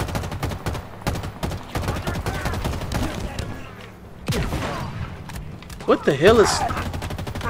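Rapid gunfire aimed at the player in Halo Infinite, bursts of automatic shots and thuds mixed with game sounds, loud and close, with someone talking over it.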